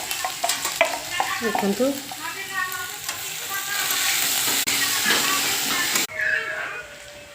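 Onion, ginger and garlic fry in a pan for a pea curry, with a steady loud sizzle and hiss as a utensil stirs and scrapes through them; a voice speaks briefly over the cooking.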